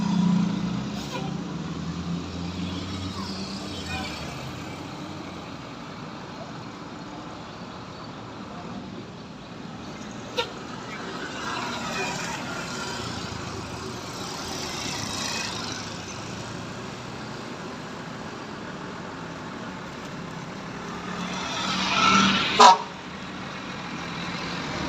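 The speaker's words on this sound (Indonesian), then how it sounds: "Keberangkatan bus Prima Jasa jurusan Garut Bekasi." A Prima Jasa bus departs Guntur bus terminal in Garut at New Year, its low engine rumble idling and pulling away amid terminal ambience, with a brief hiss near the end that suggests air brakes.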